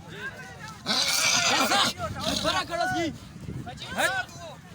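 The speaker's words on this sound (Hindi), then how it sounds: "ये देखिए बड़ा मुश्किल काबू आता है ये घोड़ा" A spirited black horse at the Taxila Museum, hard to control, whinnies in several bright, quavering bursts close by, with hoofbeats and people talking around it throughout.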